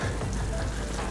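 Steady rain falling on a surface in a small village where a school is being renovated, a dense even patter that fills the short moment without talk.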